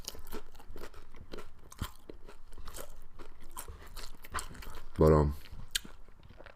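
Someone crunches and chews kimchi nachos close to the mic, soft repeated bites and chewing with one louder crunch, mixed with intermittent speech.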